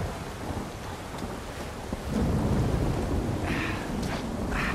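Steady rain with a low thunder rumble in the video game Uncharted 4, a continuous hiss that swells louder about halfway through, with no talking.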